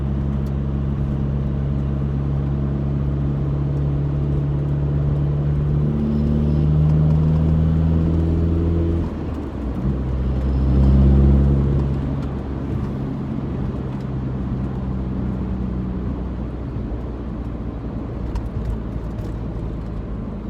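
A 2003 Volkswagen Jetta TDI diesel with a five-speed manual drives down a road, its engine rumbling low and steady with a couple of rising and falling swells as it accelerates and shifts, no voices.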